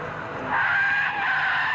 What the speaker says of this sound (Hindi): पर सड़क पर गिरी रेत की वजह से गाड़ी स्लिप हो गई